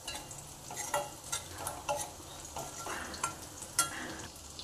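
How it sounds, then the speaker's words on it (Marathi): Green chili frying in a pan with ginger and garlic for a vegetable soup, a steady close sizzle with soft stirring scrapes and small pops recurring throughout. "आता एक मिरची जी आहे ती टाकून घेऊयात, पूर्ण त्याला भाजून घेऊयात, फ्राय करूयात।"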